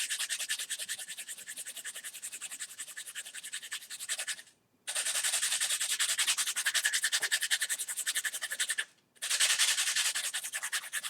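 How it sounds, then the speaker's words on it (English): Pencil being sharpened before charcoal drawing: a steady, close, rasping grind of the blade against graphite, continuous for several seconds, broken by two brief pauses. "I'm just going to sharpen the pencil now."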